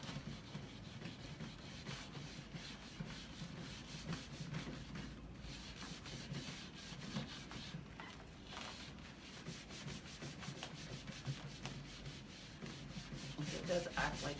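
Steady scrubbing of stripped wood furniture, a soft abrasive pad worked back and forth over the surface, continuous and close with no pauses.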